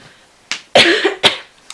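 Several sharp coughs in quick succession, close and loud, with short quiet gaps between bursts.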